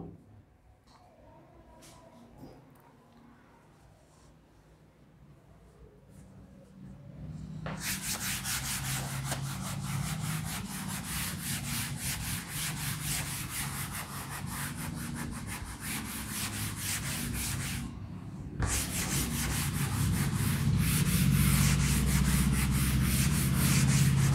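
A classroom board being rubbed clean with a duster: a long, scratchy, continuous scrubbing close by that pauses briefly partway through and grows louder toward the end.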